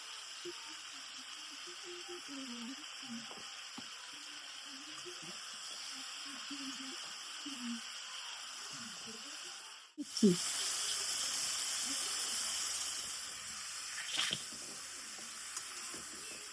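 Shrimp frying in a pan with ridge gourd, a steady soft hiss and sizzle that swells louder after a sharp clatter midway, with faint scraping and a brief knock near the end.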